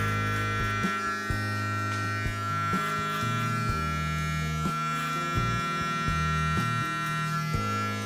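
A Panasonic beard trimmer fitted with a 3 mm attachment buzzes steadily up close, its motor tone dipping and shifting each time it works through a full beard, with no talking.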